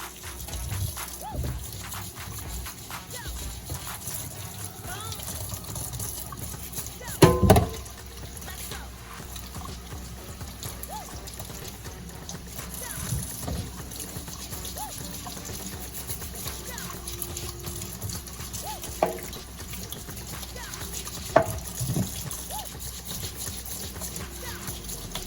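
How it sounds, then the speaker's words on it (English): Cucumbers washed and scrubbed with a kitchen brush under running water, giving a steady trickle and splash, with occasional louder clunks and scrubbing under intermittent talk. "So I'm going to wash them really good."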